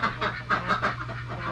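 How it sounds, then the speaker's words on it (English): Farm ducks quack in a quick series of loud, nasal calls close by, several bursts in a row over a low steady hum. "Stupid ducks!"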